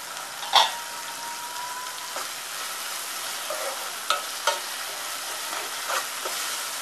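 Chopped onion cooks in a pan for an Indian chicken masala, a soft continuous sizzle with a few sharp spoon clinks and stirring scrapes scattered through, quiet and close, with no voices.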